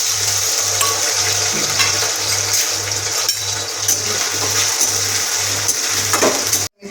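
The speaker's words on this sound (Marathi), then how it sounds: "तर तेल आपण गरम करून घेऊयात तर आपण बटाटा टाकून घेऊया" Potato pieces fry in hot oil for sabudana khichdi, a steady close sizzle and crackle with a low rhythmic pulsing hum underneath.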